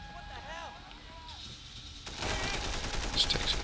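Gunfire erupts in the video game Sleeping Dogs: after a quieter stretch with tonal effects, a dense burst of shots and crackling fire takes over loudly for the second half.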